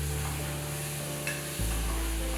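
Mutton keema fries in a pan while being stirred, a steady close sizzle with scraping stirs and a louder burst of frying after a brief lull near the end.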